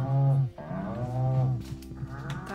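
A cow in a farming video game lets out two long, low moos in a row, close and loud, with a brief gap between them and no voices present.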